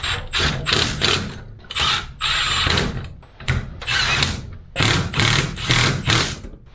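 A power drill drives screws to fasten a garage door opener bracket, with several loud, close whirring bursts that ratchet and grind, separated by short pauses.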